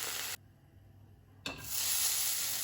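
Chicken chow mein ingredients are tossed in a hot frying pan. A loud sizzle cuts out briefly, then comes back with a clatter and keeps hissing strongly.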